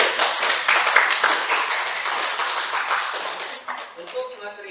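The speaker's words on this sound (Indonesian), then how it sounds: "tepuk tangan untuk semuanya" A classroom audience claps at the end of a sermon-text lesson: brisk, fairly loud clapping that continues steadily for several seconds before tapering, with a few scattered claps near the end.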